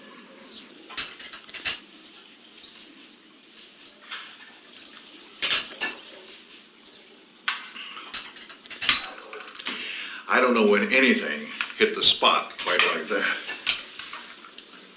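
Dishes and cutlery clink in scattered, sharp knocks while a host serves a guest. The knocks grow into a dense clatter of plates and utensils near the end, and a voice speaks over the early part.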